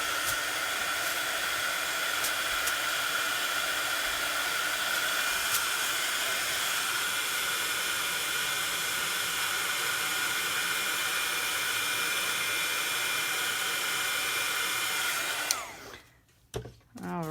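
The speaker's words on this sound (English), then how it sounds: "I'm going to turn my heat tool on for a second." A heat tool runs continuously for about fifteen seconds, melting embossing powder on a window sheet craft project, a close, steady blowing hiss that cuts off abruptly near the end with a few clicks.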